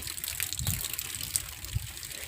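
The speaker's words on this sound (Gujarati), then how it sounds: "આપણે બપોરેનો પાણી ચાલુ થઈ લો હજુ ચાલુ જ છે" Water flowing continuously from a tap or supply line, a steady gushing trickle with small surges, close and unbroken throughout.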